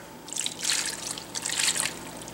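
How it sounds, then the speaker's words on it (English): A cup of plain water is poured into a crockpot, two short splashing, trickling bursts close by, with a quiet pause between them. "This is 1 cup of just regular water."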